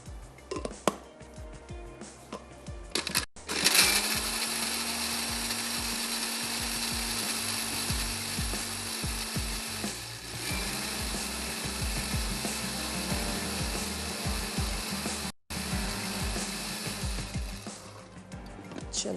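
A kitchen grinder whirs steadily at high speed while crushing onion with a little water, loud and continuous, with a brief stop partway through before it runs on.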